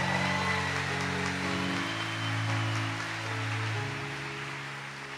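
A church congregation applauds, a dense steady wash of clapping that fills the room at moderate volume and slowly eases, with a low organ-like drone sustained underneath.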